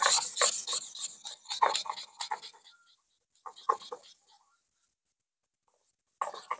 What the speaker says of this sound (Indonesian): Ini amplas 800.